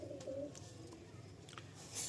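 Female pigeon at a loft cooing in low, soft repeated notes, fairly close, over faint background noise.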